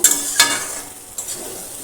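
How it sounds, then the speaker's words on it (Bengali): Spoon stirring fried potatoes and soybeans with spices in a pan, a few brief scraping and sizzling strokes at close range. "আলু সয়াবিনগুলো মশলার সাথে ভালো করে মিক্স করে নেব।"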